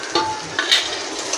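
Tomato going into a pan of fried prawn, ridge gourd and ginger-garlic-green chilli paste, giving soft sizzling and stirring scrapes with a few louder bursts, close and moderately loud.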